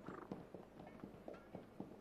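Horses' hooves clip-clop at a steady walking rhythm as the animals are led into a circus arena during a Soviet-era 1979 rehearsal, the regular hoofbeats fairly close and clear with no talk over them.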